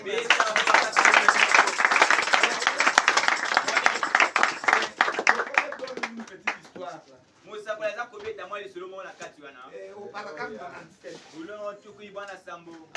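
A church congregation claps hands loudly and rapidly for several seconds before the applause fades, and a preacher then speaks in French over a few scattered claps.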